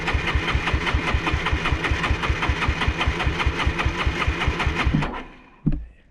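An engine on a vehicle running out of gas during a desert deer hunt in southern Arizona, chugging in a steady rapid pulse before sputtering and dying, with one brief last cough, close and loud with no talking.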